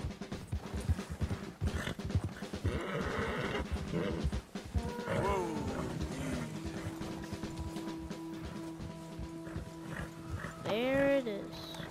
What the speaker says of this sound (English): We're after a horse.